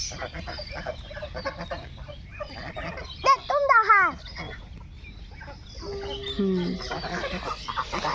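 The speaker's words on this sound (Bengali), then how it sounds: "শাক তুলতে হাঁস এসে পড়ছে এই যে আমাদের হাঁস" Village ducks give a short run of nasal quacking calls midway and again near the end, over quieter outdoor background sound.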